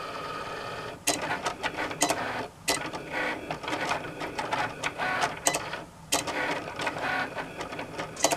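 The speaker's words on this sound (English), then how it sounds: "And this is using the Cricut Explore Air 2, which you can probably tell by the look of the machine." Cricut Explore Air 2 cutting machine slicing Oracal 631 removable vinyl, a steady close whirring with repeated carriage runs broken by short pauses and clicks, no talking.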